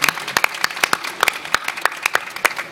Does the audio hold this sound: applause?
yes